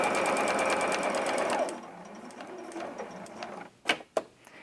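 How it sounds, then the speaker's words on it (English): A sewing machine stitching a 1/4 inch fabric seam runs in a fast, steady whirring chatter for under two seconds, then stops, followed by quiet handling noises and a couple of sharp clicks. "I'm going to sew my 1/4 inch, I'm going to back stitch"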